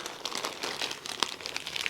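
A plastic bag crinkles and rustles as it is handled up close, with irregular crackling bursts throughout and no talk.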